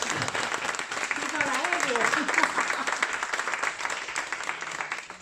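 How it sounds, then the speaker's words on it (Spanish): Audience applauding a personal testimony at a health talk, a steady wash of clapping sustained for several seconds with a voice speaking over it. "un aplauso para este testimonio"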